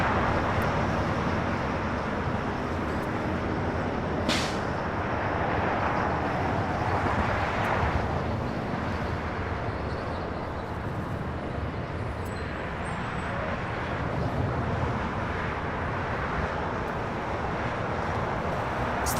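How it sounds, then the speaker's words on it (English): A Philippine Airlines Boeing 777-300ER taking off at Los Angeles International Airport, a broad continuous jet roar heard from a distance, steady and rumbling throughout. "Philippine Airlines, flight 113, taking off to Manila on the 777 300ER"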